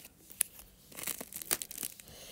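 A plastic plush toy package being cut and torn open, with short crinkly rips and a few sharp snips up close, quiet and without speech.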